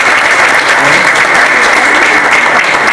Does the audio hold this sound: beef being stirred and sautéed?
no